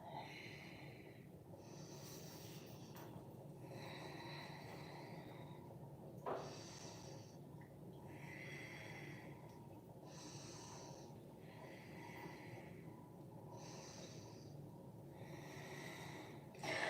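Slow, deep breaths during a standing wide-legged forward fold in a live yoga class, several long inhale-exhale cycles in a steady rhythm, soft and close with a faint nasal rasp, no talking.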